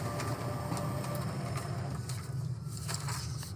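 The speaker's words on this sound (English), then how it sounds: "it's going to print off a cleaning page for me" A laser printer runs a cleaning page, giving a steady mechanical hum and whir with a low rumble and faint rhythmic clicks throughout, moderately loud and close, with no talk.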